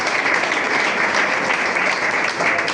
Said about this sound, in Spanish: Den ese fuerte aplauso al Señor.